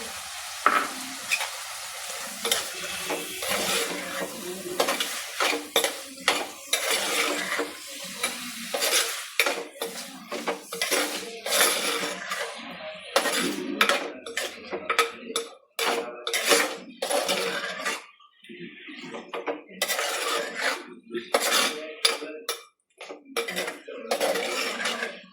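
Prawns being stirred in a pan for a coconut curry, with repeated metal spatula clanks and scrapes against the pan over a sizzling hiss, loud and close, in uneven bursts with brief pauses.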